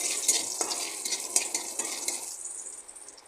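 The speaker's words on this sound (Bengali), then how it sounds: "এটা খুব ভালো করে ভেজে নিতে হবে।" Hilsa fish heads fry and sizzle steadily in a pan, with a few spoon-stir scrapes and clinks over the hiss, which softens toward the end.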